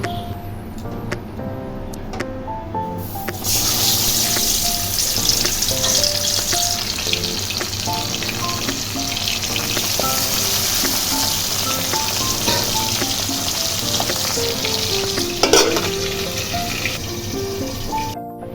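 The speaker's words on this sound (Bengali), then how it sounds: "এবার মাছগুলিকে এক এক করে ভেজে নেব" Fish sizzling in hot oil in a wok, a loud, continuous crackling fry that swells after a quieter start, with scattered clinks and scrapes, a brief sharp clatter near the end and a trickle of water in the background.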